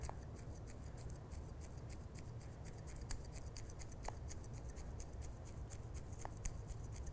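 Scissors snipping small pieces of felt for decorating a knitted striped Christmas stocking, a quiet series of close, crisp cuts at an irregular rhythm with no talking.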